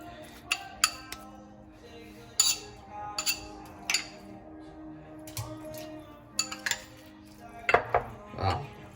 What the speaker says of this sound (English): Just gonna mix everything together like that.